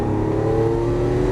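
A Lamborghini Aventador LP700-4 V12 on a Las Vegas race track holds a loud, steady engine drone under light throttle, its deep harmonic hum heard from inside the car without any speech.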